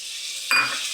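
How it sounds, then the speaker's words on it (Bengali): Tomatoes frying in a pan, a close bright sizzle with a sudden louder burst of spattering midway, alone without talk. "বন্ধুরা এখানে আমার টমেটোটা ভাজছি।"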